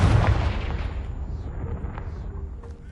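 A fire-blast spell in the Hogwarts Legacy video game striking a pile blocking a stairwell, a loud, close booming explosion that rolls off into a fading rumble and crackling debris.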